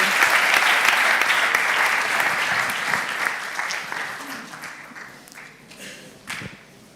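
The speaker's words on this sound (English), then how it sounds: "Please give a round of applause for our panelists" Audience applause for conference panelists at a cities and economy forum in Bilbao, a dense, steady round of clapping from a large room that gradually thins and fades over several seconds.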